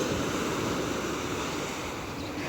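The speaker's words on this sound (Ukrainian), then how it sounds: "Море тут шикарне і пляж, і спуск, пісочок, усе дуже класне." Black Sea waves wash onto a sandy beach in Odesa, making a continuous loud surf roar with wind buffeting the microphone and no voices.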